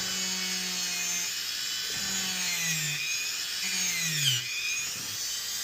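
A Dremel 200 rotary tool drills a hole in a small figure diorama, its whining motor rising and falling in pitch as it bites in, steady and close with no talk.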